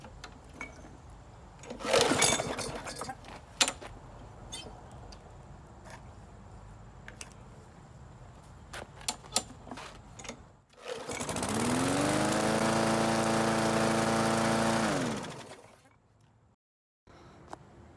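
Scattered clicks and handling noises come first, then a Briggs & Stratton lawn mower engine with a newly replaced primer bulb starts. It runs steadily and fairly loudly for about five seconds before cutting out to near silence.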